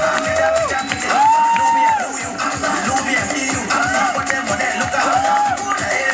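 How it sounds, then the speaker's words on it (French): A crowd cheers and whoops loudly for children at a summer activities closing event in Fribourg, with shouting voices and rising calls over a dense, continuous roar and some applause. "on applaudit très très fort pour les enfants."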